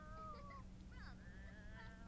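A cat in the Sims 4 video game gives a few soft, drawn-out meows over a quiet, steady hum of background game ambience.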